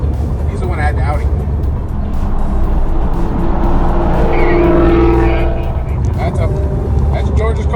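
A 2018 or 2019 Mustang GT Performance Pack 2 accelerates with a loud, rising engine roar that swells in the middle and then eases, while people talk nearby.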